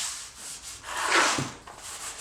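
Cloth wiping dust and oily residue off plastic car interior trim parts during a Ford ZF Fairlane restoration, a soft continuous rubbing that swells louder in the middle, close up with no talk.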